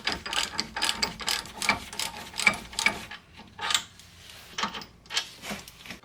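Close, rapid clicking of a ratchet in repeated bursts with short pauses as the brake caliper bolts come off a Nissan 350Z during a wheel hub and bearing job.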